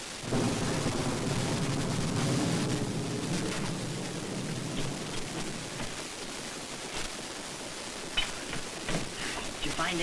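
Heavy thunderstorm with steady rain and a low, rolling rumble of thunder, constant and loud at first and easing slightly, with a few sharp cracks near the end, set on a boat on a river.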